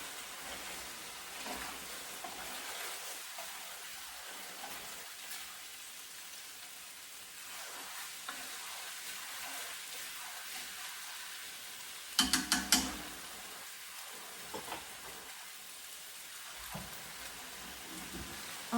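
Garlic minced pork and tofu fry in a pan with a faint, steady crackling sizzle like light rain. A brief cluster of sharper spatters stands out midway.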